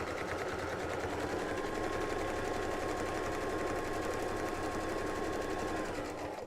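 A sewing machine stitching in place on a lapbook jotter, a steady, fast, even whir held close and continuous for several seconds with no talk over it.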